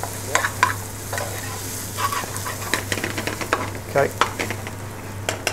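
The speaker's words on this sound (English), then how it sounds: "And to that, we're going to add onions." Onions frying in a pan for lamb pathia curry, a close steady sizzle broken by repeated scraping stirs, with a brief spoken word.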